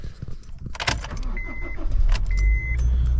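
Honda Fit car idling while it warms up, a low steady engine rumble that grows and holds near the listener, with clicks, jangling keys and handling noises over it.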